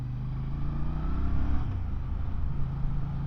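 A Voge R625 sports commuter motorcycle rides steadily, its engine note rising and falling as it comes down through the gears, heard close with a continuous low rumble and no talking.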